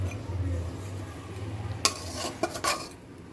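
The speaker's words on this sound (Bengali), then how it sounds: "কষতে থাকুক আমার বরবটিটা" Yardlong beans sauté in a pan with a low, soft sizzle, then a short burst of sharp spatula clinks and scrapes against the metal.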